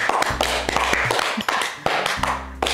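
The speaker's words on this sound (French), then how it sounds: "On applaudit pour Israël." A small group at a children's spiritual discussion claps together in a close, sharp burst of applause, with distinct individual hand slaps and a low hum running underneath.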